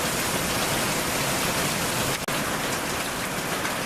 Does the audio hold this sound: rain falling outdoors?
yes